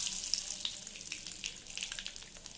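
Curry leaves hit hot oil with asafoetida in a kadai, giving a bright, steady hiss and spitting crackle, close and fairly quiet, with no voices.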